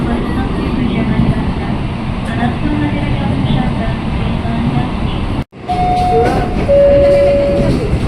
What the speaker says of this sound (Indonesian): Suara mesinnya pas lagi berangkat